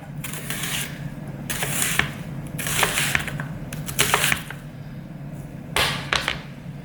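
Knife slicing a pickling onion into thin strips on a cutting board, five or six short crisp cuts spaced about a second apart, close up over a low steady background hum.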